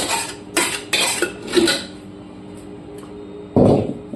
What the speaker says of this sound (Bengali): ফাইনালি প্রেশার কুকার আমি ঢেকে দিলাম।